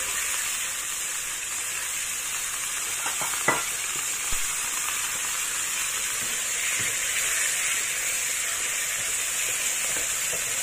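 Ginger fries in a pan before lotus root goes in, a steady close sizzle and hiss with a couple of faint clicks of stirring, running unbroken and evenly loud.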